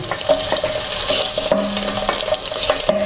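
Garlic sizzling in a hot pan, a steady crackling hiss with scattered pops and light clinks of a utensil against the pan, close and continuous with no talking.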